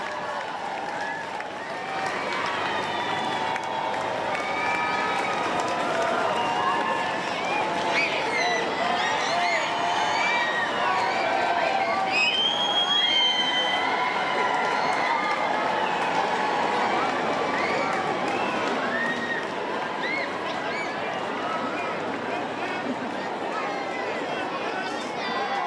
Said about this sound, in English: You can hear the crowd. Let's just listen to the crowd for a moment.